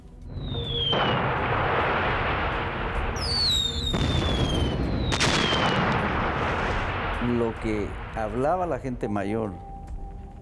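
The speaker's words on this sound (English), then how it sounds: "played the sounds of a bombing run, of jet craft going overhead, to inspire fear among the population" Loudspeaker playback of a bombing run, with jet aircraft roaring overhead and repeated booming blasts in a continuous loud barrage; rising and falling whistling tones and warbling swoops appear toward the end.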